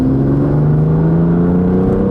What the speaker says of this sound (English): when you floor it and then you go down, you downshift, it gives an exhaust blip